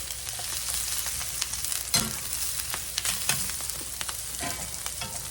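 Blanched green beans sauté loudly in a pan for holiday green beans, a steady crackling sizzle broken by sharp scrapes and clacks of a spatula stirring, with no talking.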